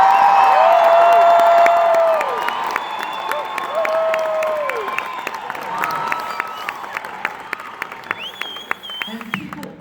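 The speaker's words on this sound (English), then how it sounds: "And people always clap, and I don't know why." Live audience at a Cher show in Las Vegas breaks into loud, sustained applause with cheers and whoops, a dense crowd roar that fades over several seconds into scattered claps.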